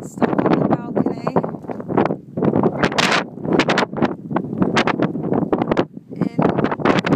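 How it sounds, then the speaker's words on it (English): A violent Icelandic wind storm roars in gusts of up to 135 mph, buffeting the microphone with loud, surging blasts heard from a balcony. "135 miles an hour, general winds of 70 miles an hour, calming down sometimes."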